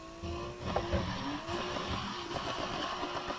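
A car drifts in the racing game Need for Speed Heat, its engine droning steadily under a long, wavering tire squeal as it slides through a turn.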